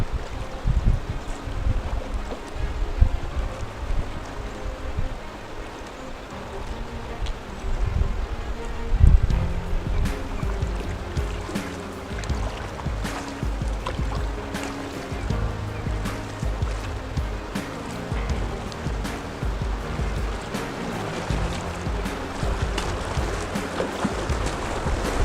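A kayak runs through whitewater rapids among underwater boulders, with continuous rushing, splashing water and wind buffeting close to the microphone, plus occasional paddle knocks and splashes, sustained throughout.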